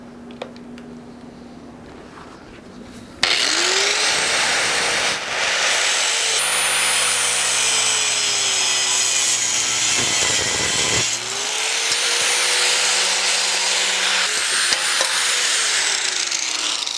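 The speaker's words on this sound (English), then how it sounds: "I'm going to bust them loose with a grinder" A power grinder cuts through the tack welds holding the wheels of a homemade dust collector cart. After a quiet start it kicks in suddenly, loud and harsh, and runs almost continuously with a short dip in the middle.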